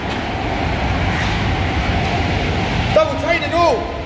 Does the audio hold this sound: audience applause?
no